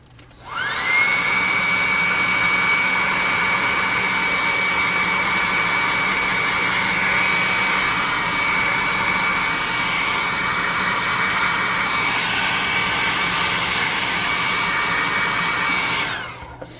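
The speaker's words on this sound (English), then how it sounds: "Hit him with the hair dryer." A hair dryer blows on a freshly spray-painted miniature golem model, switching on with a steady whining roar for about fifteen seconds, then shutting off.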